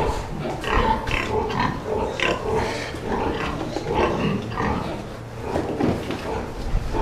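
Sows on a farm grunt and snuffle close by while being fed apples, with rough, irregular grunts and chewing noises over a steady low hum, and a voice murmuring now and then.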